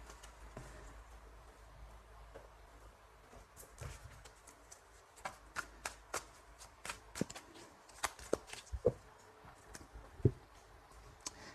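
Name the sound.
shuffling tarot cards for a reading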